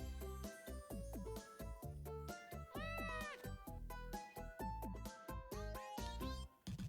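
A cartoonish cat character in the PlayStation All-Stars Battle Royale video game meows repeatedly in quick, expressive, rising and falling cries, clear and up front, one call after another with no pause.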